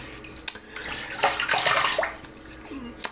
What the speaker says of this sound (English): let me wet my face again and we'll go and start lathering